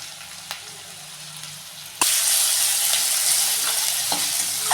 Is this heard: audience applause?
no